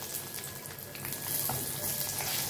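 Green chillies sizzle faintly in hot oil with asafoetida tempering, the pan's stove switched off, producing a soft continuous crackle and hiss.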